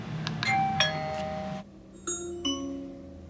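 An Amazon Echo sounds the doorbell chime for a Tapo D225 video doorbell indoors: a bright multi-tone chime rings out and then a second, softer two-note chime follows, clear and close.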